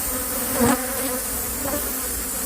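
Bees from a large hive near the base of a telephone pole buzz steadily and faintly, a continuous insect drone with one brief louder swell as a bee passes close.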